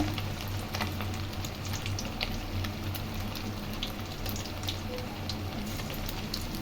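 Egg 65 pieces frying in hot oil, a dense continuous sizzle and crackle that stays loud and close throughout, with no speech over it.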